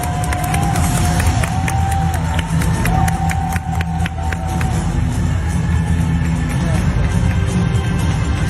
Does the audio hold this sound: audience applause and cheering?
yes